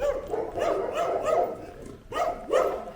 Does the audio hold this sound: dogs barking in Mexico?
yes